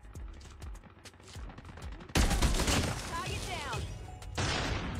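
Gunfire from the Odin rifle in the video game Call of Duty Mobile, arriving as dense, loud bursts after a quieter stretch of sparse shots, with a voice speaking underneath.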